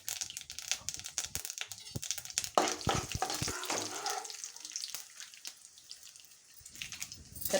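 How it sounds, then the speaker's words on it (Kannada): Mustard seeds, cumin and urad dal crackling and frying in hot oil, a busy spattering hiss with sharp popping bursts that peak in the middle and then ease off toward a quieter sizzle. "ಇದಕ್ಕೆ ಸಾಸಿವೆ, ಜೀರಿಗೆ, ಉದ್ದಿನಬೇಳೆ ಸ್ವಲ್ಪ ಜಾಸ್ತಿ ಹಾಕ್ತಿದ್ದೀನಿ."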